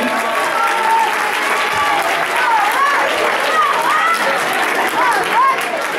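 Sustained audience applause at a library-organized festival, a dense, even wash of clapping lasting the whole stretch, with scattered voices and faint chatter woven through the crowd noise.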